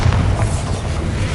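Spell explosions in Hogwarts Legacy: a short burst of heavy booming blasts with low rumbling punches, loud and close, with no speech.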